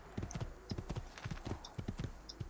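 Horse hooves from Assassin's Creed 2 beat a quick, steady clip-clop gallop, close and fairly loud, with paired impacts repeating through the whole short stretch and no talk over them.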